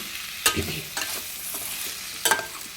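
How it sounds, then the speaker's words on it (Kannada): Paneer masala fries gently in a pan on a low flame under a soft, steady sizzle, with three distinct scraping strokes of a spatula stirring the mixture; nobody speaks. "ಇದನ್ನು ಕೂಡ ಒಂಚೂರು ಲೋ ಫ್ಲೇಮಲ್ಲೇ ನಾವು ಆದಷ್ಟು ಇದನ್ನೆಲ್ಲ ಫ್ರೈ ಮಾಡ್ಕೋಬೇಕು"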